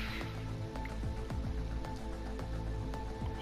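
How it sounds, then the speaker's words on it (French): Rain falls during a race session in the video game F1 2017, a steady patter of drops spread evenly across the track ambience, with faint engine hum beneath and no talk. "il a commencé à pleuvoir justement"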